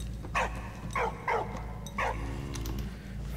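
A dog in the video game Valiant Hearts gives four short, high yipping barks at even intervals, fairly close, over a low steady background hum.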